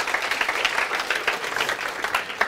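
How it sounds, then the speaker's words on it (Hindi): Applause for a student named Jaanvi in a CA Inter law lecture, dense steady clapping from many hands, close and fairly loud, running the whole moment with no talk over it. "जानवी के लिए जोरदार तालियां बजा दीजिए"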